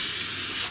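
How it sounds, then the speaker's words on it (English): A short, close hiss of cooking spray misted onto the tops of tortilla roll-ups sitting in an air fryer basket, steady for most of a second before cutting off. "I'm just going to spray the tops of the roll-ups"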